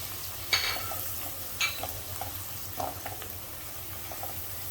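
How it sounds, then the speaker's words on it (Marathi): Ground masala paste frying in oil over a low flame with garlic for prawn masala, a steady soft sizzle punctuated by a few sharp spoon scrapes and clinks, with no one speaking. "अर्धा मिनिटभर आपल्याला लो फ्लेमवर थोडं वाटण पण तेलामध्ये परतून घ्यायचं आहे"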